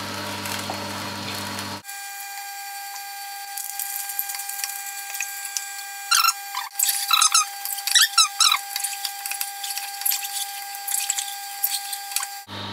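A juicer grinds kale sticks and baby spinach leaves with a steady high whine, shrill squeaks and rubbing crunches as the greens are pressed through, loud and close with no talking.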